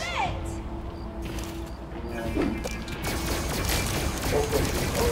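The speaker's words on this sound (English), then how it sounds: "Did you shoot the rocket with your gun or no?" Gunfire in the video game FNAF Help Wanted 2, Fazcade hard mode, comes as a dense run of sharp blasts and crashes layered over game music and player chatter.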